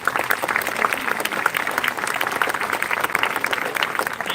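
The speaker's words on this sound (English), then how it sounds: "A round of applause, please," An audience at a K-12 graduation ceremony applauds the faculty and staff with loud, dense, continuous clapping that stays strong and even throughout, close and full.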